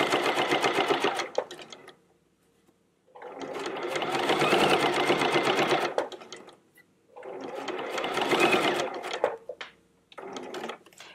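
A sewing machine stitches smocking into fabric in three long runs of steady, loud, close-up mechanical whirring, separated by brief pauses, with a short final burst.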